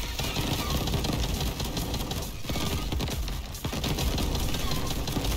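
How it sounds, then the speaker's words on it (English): Drill grenades in Crab Champions, fired from an elemental glue auto shotgun build, make a dense rattling, grinding clatter of rapid mechanical impacts that carries on loudly, with a couple of brief dips. "these drill grenades are very amusing, actually"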